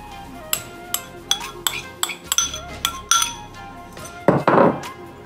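Crushed ginger and garlic stirred into masala in a bowl, giving a run of sharp clinks and taps of a utensil against the bowl, close and fairly loud, ending in a brief scraping burst.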